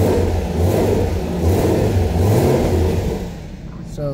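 A 2017 Chevrolet Camaro ZL1 engine revving with its exhaust valves closed, a muffled mid-pitched roar that swells and eases over a few seconds, heard up close; it is raining heavily.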